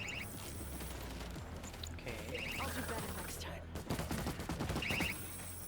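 Dense, continuous gunfire in the zombie shooter World War Z, with rapid overlapping shots and bursts that grow louder toward the end amid busy game effects.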